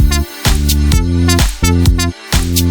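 An EDM drop produced in FL Studio Mobile, with loud sustained synth chords over a heavy bass line, broken by short rhythmic gaps and pumping accents, playing alone without voices.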